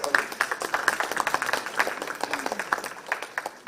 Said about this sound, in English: With a big round of applause, please.